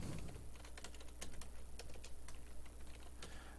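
Typing on a computer keyboard: a steady patter of light, close key clicks over a constant low room hum, with no voices.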